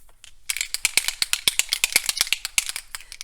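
Rapid rattling from a shaken spray bottle, a small bead clattering inside in quick bursts for several seconds, close and fairly loud.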